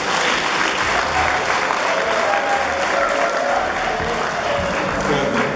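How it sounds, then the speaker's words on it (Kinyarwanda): A large audience applauds at a Christian year-end concert, dense sustained clapping that stays loud and even for several seconds, with faint crowd noise mixed in. "Tubaha amashyi menshi."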